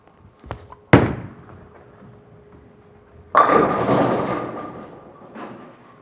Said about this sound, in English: I'm going to try rolling the ball nice and easy off my hand and into the lane